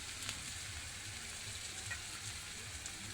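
Onions fry in oil with chopped ginger, giving a steady, soft, even sizzle with no talking throughout.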